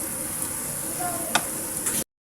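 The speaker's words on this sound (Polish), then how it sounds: "smażę do zmiękczenia e, jabłka i cebuli" Steady low sizzle of apples and onions frying in a pan, a soft continuous crackle with a couple of brief clinks near the end.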